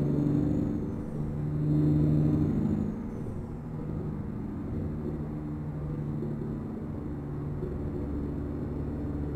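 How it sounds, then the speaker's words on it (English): Road train truck engine with turbo noise in American Truck Simulator, a steady low rumble and drone, slightly louder at first and then settling into an even hum. "Really hear the turbo noise."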